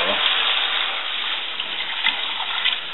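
Water pours steadily into a soup pot for chicken noodle soup, a loud, close, continuous gushing stream with no talking.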